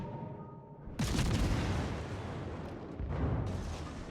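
Heavy naval gunfire from the cruiser Sherman in the World of Warships battle game, with deep booming blasts arriving in two loud bursts, each swelling into a rumbling broadband roar that lingers.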